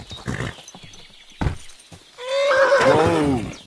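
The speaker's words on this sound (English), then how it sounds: "Your horse nearly trampled me!" A horse whinnies loudly up close, a long shaky neigh with wavering pitch following a few earlier snorts and thuds.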